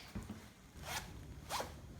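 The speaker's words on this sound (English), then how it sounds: "I call it zipping." A trouser zipper being zipped up in a few short, quick rasping pulls, close and fairly quiet, with no speech.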